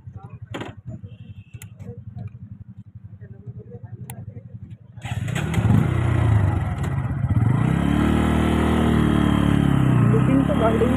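A new-model 2023 Bajaj Pulsar motorcycle idles quietly with a faint ticking before its engine swells into a loud, close, sustained running note with rising and falling revs as the bike is ridden.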